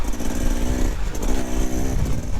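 A 2024 Beta Xtrainer 300 dirt bike engine revs hard and close, rising and falling in pitch as it rips along slightly uphill in second gear.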